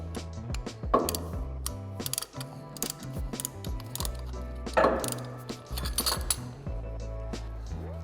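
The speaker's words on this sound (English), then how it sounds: "make sure you use a compression tool to compress the pistons so the caliper will fit over the new pads" A caliper piston compression tool ratchets as it pushes the pistons back into a brake caliper on a 2017 Ford F-150, giving repeated close metallic clicks and clunks over a steady low background hum.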